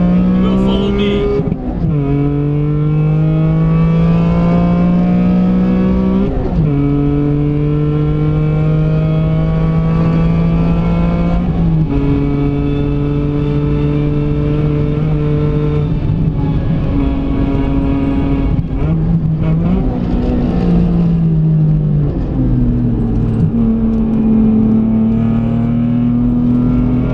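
A race car drives hard on the Nürburgring, heard loud and close from inside. The engine note climbs repeatedly and drops at each gear change in a long, continuous run.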